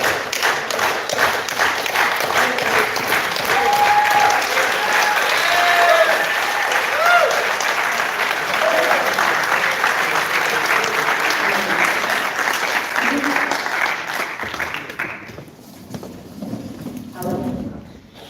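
Sustained audience applause at a housing justice summit keynote in Pittsburgh, a dense, steady wash of clapping from a sizable crowd that fades out near the end, with a few faint voices underneath.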